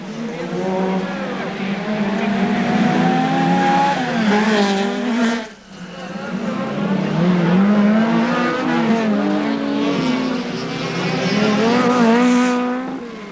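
A Lancia Delta S4 rally car races on a dirt track at a 1987 European championship event, its engine rising and falling through rapid gear changes, loud and close, then pulling away and returning.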